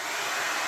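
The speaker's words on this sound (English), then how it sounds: "see if it can run a little hair dryer with 180 watts" A small 180-watt hair dryer runs on UPS battery backup, giving a steady, close, even blowing hiss that holds at one level the whole time, with no voices.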